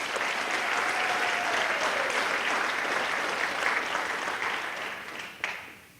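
An audience at a State of the Union style address bursts into sustained applause, a dense wash of clapping that holds steady for several seconds before tapering off.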